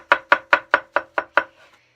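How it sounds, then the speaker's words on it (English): Knife chopping thin mushroom slices on a cutting board for a wilted spinach salad, seven sharp, evenly spaced close chops in a quick steady rhythm, then a faint trailing scrape. "Chopping mushrooms is a cook's favorite thing to do."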